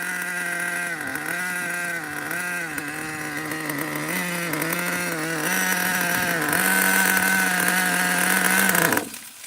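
A nitro-powered RC car engine, a two-speed model, screams loudly and continuously, its high-pitched whine rising and dipping through several throttle surges before cutting off abruptly near the end.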